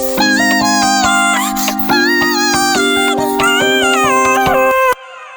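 A vocal line pitch-shifted up an octave with formant shifted up an octave, unnaturally high and thin like a chipmunk voice, holds several sustained notes over a steady low accompaniment before cutting off.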